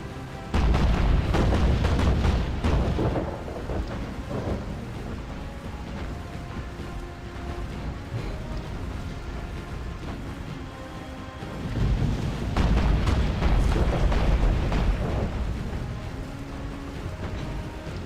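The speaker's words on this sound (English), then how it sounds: "One of those torpedoes hit." A torpedo strikes a ship in the naval video game Battlestations Pacific, giving loud, booming explosions. Two heavy bursts of rumbling blast noise are separated by a long stretch of low, sustained roar.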